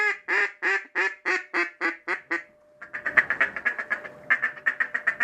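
Real ducks quacking at a duck hunt, a rapid run of loud close quacks followed by a denser, busier series of calls.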